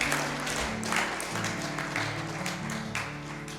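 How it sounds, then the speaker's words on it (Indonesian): An audience at a high school graduation ceremony in Pangkalpinang breaks into steady, fairly faint applause for a few seconds, many hands clapping together. "Boleh tepuk tangan"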